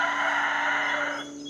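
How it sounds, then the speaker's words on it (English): Chickens call continuously in the background outdoors during dill seed harvesting, a dense bright clucking and crowing chorus that fades slightly at the end. "we have the chicken commentary in the background"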